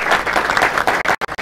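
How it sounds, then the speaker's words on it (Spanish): An audience applauds a work team at a panel on new civil-law procedural dynamics, a dense, close burst of clapping that thins into a few scattered claps with brief gaps near the end. "les pido un aplauso para el equipo de trabajo"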